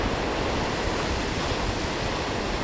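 Steady roar of sea surf washing onto the shore, constant and full, with a windy rush and no voices.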